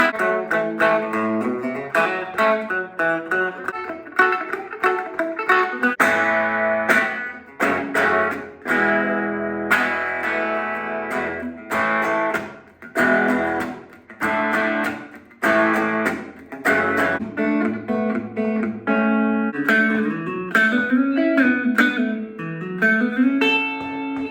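A Schecter Diamond Series PT black solid-body electric guitar plays clean, bright, twangy chords and single notes on its bridge pickup, with rhythmic strums, short gaps and a final bent note, alone and close.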